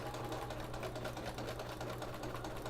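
A sewing machine stitches steadily and continuously while machine quilting, its rapid mechanical rhythm close by and constant with no talking.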